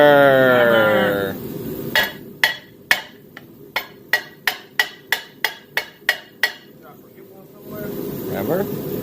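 A series of about a dozen sharp metallic hammer strikes on a turbocharged 3800 engine bay in a Camaro, steady rhythm, each ringing briefly, with a voice talking before and after.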